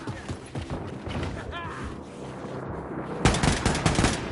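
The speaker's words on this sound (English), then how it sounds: "Shooting." Rapid gunfire from the shooter video game Wolfenstein II, loud bursts of shots over dense game sound, with a heavier volley near the end.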